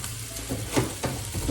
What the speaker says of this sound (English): So it'll start sizzling.